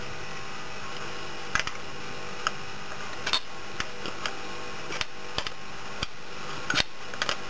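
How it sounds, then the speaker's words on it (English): Metal clicks and ticks from a spanner tightening the tappet lock nut on a Series Land Rover engine, scattered irregular taps close by over a steady background hum, with no talking. "Just tighten the lock nut back up."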